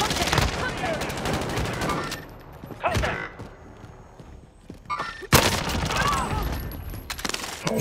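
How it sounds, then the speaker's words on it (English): Gunfire in the Call of Duty Resurgence game on Rebirth Island: loud, dense bursts of automatic fire open and close the stretch, with a quieter gap between and voices talking throughout. "Who did I just shoot behind, Frank?"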